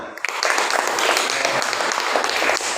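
Applause from a classroom group during a teacher training lesson in Kupang: a dense, steady burst of clapping that starts abruptly and holds fairly loud for a few seconds, with faint voices underneath.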